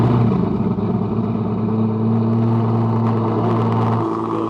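A cold Aston Martin V12 engine starting up hums loudly and steadily, its tone shifting slightly as it runs, a deep continuous drone with a subtle change near the end.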